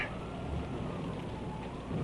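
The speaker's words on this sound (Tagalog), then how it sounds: "Dahil tumitilamsik ang ulan dito sa terasa." Rain driven by strong wind splashes onto a terrace in a dense, continuous hiss, close and fairly loud, with gusty rushing underneath.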